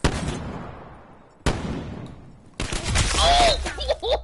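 Bursts of video game gunfire crack out loud and close, two sharp volleys followed by a denser rattling exchange with ringing tails, no talking over it.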